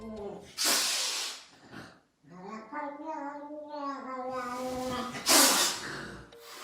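A voice imitates an animal's hiss with two long, breathy "shh" bursts, one at the start and one near the end, with a speaking voice in between.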